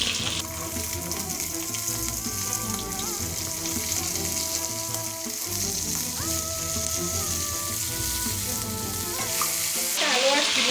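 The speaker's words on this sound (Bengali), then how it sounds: "এবার কেটে রাখা আলু আর শিম দিয়ে দিচ্ছি।" Cut potatoes and beans frying in a hot pan of oil for a dried-fish chorchori, giving a loud, steady sizzle throughout with occasional stirring scrapes and no talking.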